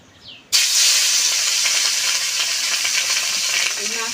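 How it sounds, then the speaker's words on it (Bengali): Fish dropped into hot mustard oil in a wok, a sudden loud sizzle bursting in after a quiet start and hissing steadily, close and continuous with light spatter. "মাছটা আমি দিয়ে দেবো কড়াইতে।"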